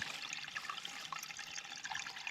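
Water trickles steadily into a hole in the ground on a slope above a brook, a soft, continuous close-up gurgle and dribble with no voices.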